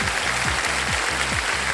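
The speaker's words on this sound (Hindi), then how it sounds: "तालियां बज जाएं इनके लिए" Steady applause from a TV game show studio audience, dense clapping that fills the whole moment without voices.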